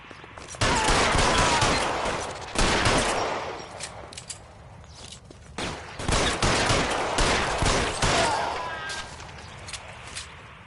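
Gunfire in an L.A. Noire shootout, several loud bursts of rapid shots separated by brief pauses, close and sharp, with voices in the background.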